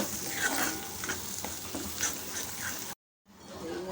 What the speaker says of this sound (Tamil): இந்த இஞ்சியோட இந்த பச்சை வாசனை போக ஃபஸ்ட்டு நம்ம கொஞ்சம் வதக்கி எடுத்துக்கணும்